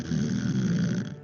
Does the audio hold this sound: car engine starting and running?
no